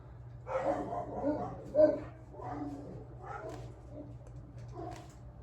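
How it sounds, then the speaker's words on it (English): A dog barks and yaps repeatedly in a series of short bursts, moderately loud and nearby, over a low steady background hum. "My dog is going crazy behind me."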